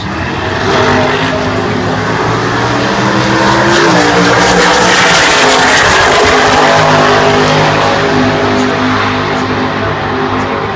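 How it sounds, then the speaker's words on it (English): A drag racing dragster doing a burnout to warm its rear tires, a loud, sustained engine roar with tire screech that holds steady, slightly rising and falling in pitch, dominating the scene for about ten seconds. "Hill taking care of business on the burnout there, getting those rear tires mightily warmed up"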